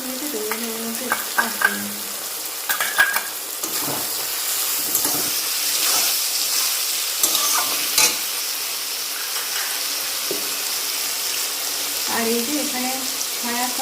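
Spice powder and Kashmiri chilli powder fry in hot ghee with a steady sizzling hiss, broken by scraping stirs of a spoon. A few brief metallic knocks sound near the start and end.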